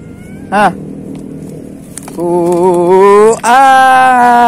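A cat meows several times while being offered a freshly caught tilapia at a wild fishing spot in Banda Aceh, with a short cry first and then longer, loud, drawn-out meows close by.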